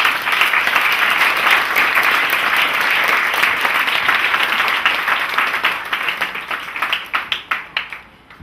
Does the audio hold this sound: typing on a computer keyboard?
no